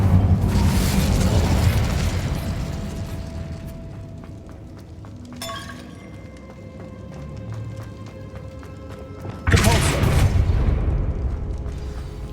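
An Incendio fire spell cast in the video game Hogwarts Legacy: a loud whooshing burst of flame that roars and fades, then a second sharp blast a few seconds later, with no talking.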